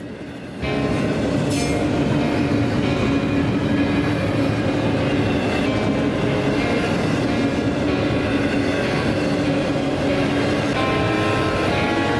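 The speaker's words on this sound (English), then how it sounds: "the last train of the day is IO-25" Freight train IO-25 rolls past at Folkston, a loud, steady rumble of rail cars with rhythmic wheel clatter and occasional squeals, close by and continuous throughout.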